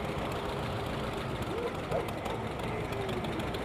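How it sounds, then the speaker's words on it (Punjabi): A roughly hundred-year-old John Deere tractor with iron wheels running at a tractor pulling event in Edmonton, Canada, its engine giving a steady low rumble at moderate distance with faint voices in the background. "ਦੇਖੋ ਜੌਂਡੀਅਰ ਆ ਗਿਆ ਲੈ ਲੋਹੇ ਦੇ ਚੱਕਿਆਂ ਵਾਲਾ ਚੱਲਦਾ ਹੋਇਆ ਜੌਂਡੀਅਰ"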